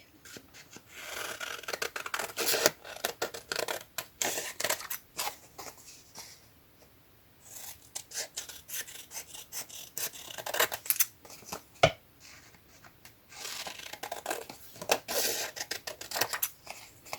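Scissors snip through fabric scraps in a quiet room, a faint, irregular series of short crisp cuts and rustles with brief pauses between bursts.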